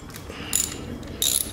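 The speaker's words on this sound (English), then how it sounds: "Get a wrench for that. Two 10mm bolts." A ratchet wrench on 10mm bolts of a 2006 Honda TRX300EX ATV gives two short bursts of quick metallic clicking, close and clear over faint background.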